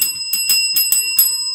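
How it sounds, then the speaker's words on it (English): A bright bell rings repeatedly in quick succession, several metallic dings with sustained ringing tones, used as a sound effect during commentary on a Yu-Gi-Oh! Forbidden Memories speedrun tournament match. "worthy of a bell ring"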